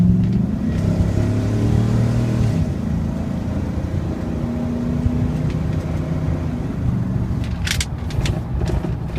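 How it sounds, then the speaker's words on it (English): A 2007 GMC Sierra 4x4 with a 6.0L engine and an exhaust leak idles steadily with a low, uneven rumble and a faint puffing exhaust, close by and continuous, with brief higher ticks near the end. "I hear a little bit of an exhaust leak."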